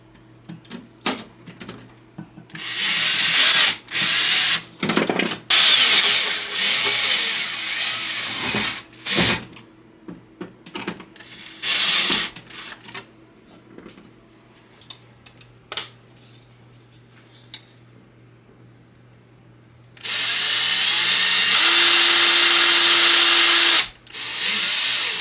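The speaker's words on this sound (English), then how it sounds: "Then I lined up the top screw and screwed it in." A power drill with a long bit drives a screw in loud, close whirring bursts of varying length, separated by quiet pauses, ending with one long sustained run.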